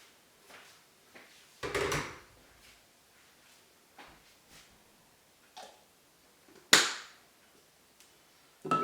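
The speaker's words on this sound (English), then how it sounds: "Lid's on to keep germs out." Lids are set onto jars of freshly harvested yeast, giving a few soft clinks and two sharper clattering knocks among quiet handling noises, close by.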